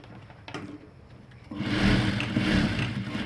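A sewing machine joins the seam of a ladies' pant, starting after a quiet moment with a few clicks and then running in a steady close motorized hum to the end.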